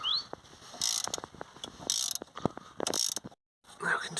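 A ratchet works a bolt loose on a Ford Focus front suspension strut, making several short bursts of rapid metallic clicking separated by brief pauses.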